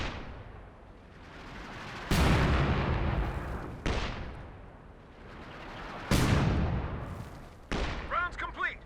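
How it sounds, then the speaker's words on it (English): Howitzer barrage in Company of Heroes 2, heavy booming impacts landing in spaced waves with long rumbling decays, loud and close, with a voice talking briefly near the end. "trying out the revised Barrage on the howitzer with the new AoE profile"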